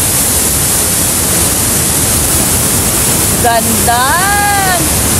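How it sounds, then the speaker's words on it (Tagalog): The first cascade of Aliwagwag Falls, a roaring waterfall that fills the whole clip with loud, steady broadband rushing water close by, while a voice briefly speaks near the end. "First cascade sa Aliwagwag Falls."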